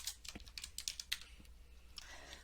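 Fingers tapping on a computer keyboard in quick, uneven bursts of close, faint key clicks with short pauses, alone and without voices.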